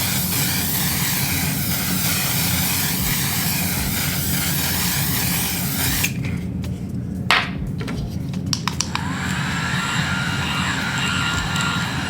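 A loud, steady hiss of makeup setting spray runs for about six seconds, then cuts off, leaving a few soft clicks and taps.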